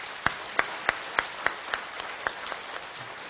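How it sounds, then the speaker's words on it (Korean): Church congregation giving applause for the fathers, heard as a sequence of roughly ten distinct, evenly spaced claps in unison that gradually fade, thin and slightly distant in the room. "우리 아빠들을 위해서 한번 박수 한번 보내주세요."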